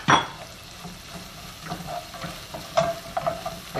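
Onions and yellow summer squash fry in olive oil for a summer pasta dish, a soft steady sizzle under repeated scraping stirs and light clinks of a utensil against the pan, close by and without talk.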